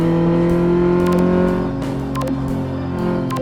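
A car engine in Car Mechanic Simulator 2015 revving and shifting pitch through a slalom test, loud and close with steady droning harmonics and brief tire or clatter accents.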